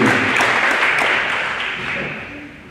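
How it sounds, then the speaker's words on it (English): An audience applauds young cadets at a high school NJROTC change of command ceremony, a brief burst of clapping that starts full and fades away. "Please give these people, these young cadets, a round of applause for their hard work this year"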